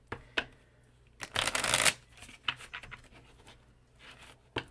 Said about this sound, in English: Let me give these one more shuffle.